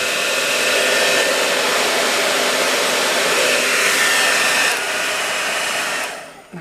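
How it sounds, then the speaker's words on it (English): A hair dryer blows with a loud, steady roar of rushing air, running continuously before cutting off abruptly near the end. "This is a strong hair blow dryer. It blows really strong."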